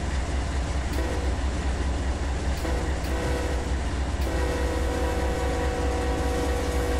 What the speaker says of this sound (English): All right, there's our vehicle train.